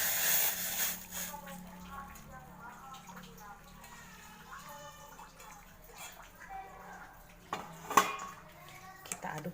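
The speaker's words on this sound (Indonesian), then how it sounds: "Kita tuangkan airnya ke dalam gelas yang sudah berisikan susu yang tadi." Hot water pours steadily into a glass holding milk at close range, with light clinks of kitchenware and a brief sharper clatter near the end.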